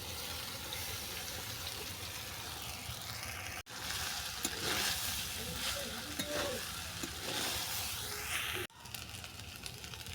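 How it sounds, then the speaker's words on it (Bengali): Rice and lentils for dal fried rice being stir-fried in a pan, with a steady loud sizzle and the scrape of stirring that runs for about ten seconds with no voices. "এবার ভাত আর ডালটাকে আমি তুলে দেবো।"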